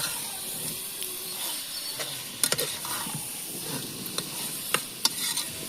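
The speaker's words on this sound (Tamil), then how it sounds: "2 நிமிஷம் நல்லா கிண்டணும். அப்போ 2 நிமிஷம் கிண்டு" Biryani ingredients sizzling and frying in a pot while being stirred, a steady soft hiss with scattered scraping clinks of the spoon against the metal, no talking.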